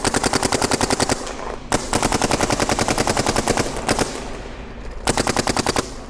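A GTEK 160R paintball marker fires rapid, sharp bursts of shots in quick rhythmic strings, loud and close, with brief pauses between volleys.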